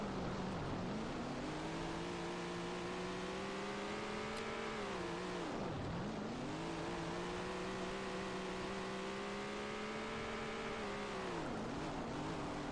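Legends race car engine with a three-speed gearbox in Tony Stewart's All-American Racing, droning continuously and loudly with rising and falling pitch as it revs through gear changes and dips sharply on lifts, with no talking.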